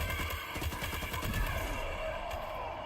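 Rapid gunfire from an automatic weapon in Death Stranding 2: On the Beach, a steady rattling burst of closely spaced shots, fairly quiet in the mix and continuing for a few seconds.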